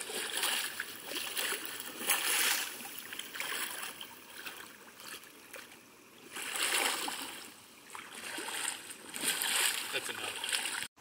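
Water splashing and churning as sediment on a stream bed is kicked up and stirred, a near continuous rushing splash that swells and fades in several waves.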